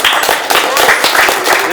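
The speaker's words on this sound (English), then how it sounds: "I think we should give a little round of applause for Christina and MHTBA." Audience applause at a remote work event, a dense patter of claps sustained and fairly loud for just under two seconds, with some voice-like energy mixed in.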